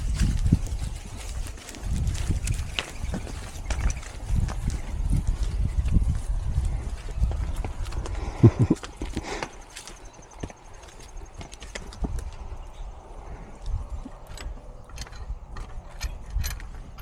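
Horse hooves clip-clop steadily as a rider goes bareback, the rhythmic footfalls close and clear throughout, with a few creaks and rattles of tack or gear between the steps and no talking.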